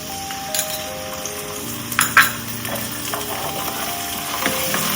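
Garlic ginger paste frying with onions in a pan for a traditional Indian yam (suran) curry: a steady close sizzle with a few metallic clinks and scrapes of stirring, no talking.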